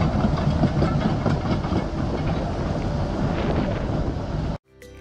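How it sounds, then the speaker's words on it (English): A Caterpillar D11T bulldozer operates with a loud, continuous rumbling roar and clanking, steady throughout before cutting off sharply near the end. "The Caterpillar D11T is an exceptionally powerful bulldozer capable of pushing large amounts of material to different locations."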